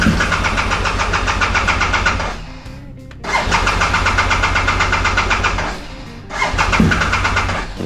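BMW R1200GS LC motorcycle engine with a failed ignition coil, running rough and uneven: two loud stretches of rumbling separated by a brief drop, then the engine picks up again, no talk.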